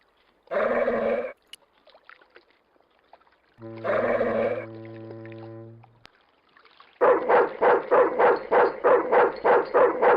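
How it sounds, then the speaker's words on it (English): A trained attack dog barks in a cartoon scene: one short bark, a longer tonal bark with a whimpering edge, then a rapid string of about nine loud, close, rhythmic barks, with no talking. "Just remember, he's a trained attack dog"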